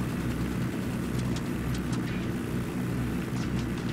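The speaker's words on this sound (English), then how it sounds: "There's a helicopter getting away." Helicopter in Ghost Recon Wildlands: a steady, loud low rotor and engine rumble that holds throughout with no break.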